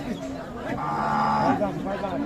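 A cow lows at a rural cattle market, a drawn-out moo swelling in the middle of the clip. Voices murmur around it.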